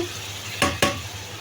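Fish roe and potatoes go into a hot frying pan with cooked spice paste, two quick loud sizzling bursts close together over a low background hiss.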